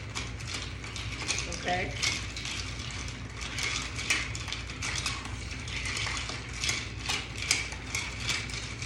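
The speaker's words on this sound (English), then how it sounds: "And you're just gonna stir this in a shaker for ice. Just stir it well" Ice rattles and clinks steadily in a shaker as a tequila negroni is stirred with ice, a dense, continuous jangle running throughout, with a brief word spoken over it.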